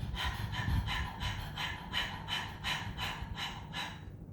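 Quick, forceful breaths huffed through the mouth in a steady panting rhythm, about two per second, close and fairly soft.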